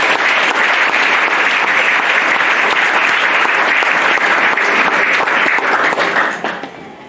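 A church congregation breaks into loud, sustained applause that fills the room, a dense wash of clapping from many hands that holds steady, then tapers off near the end.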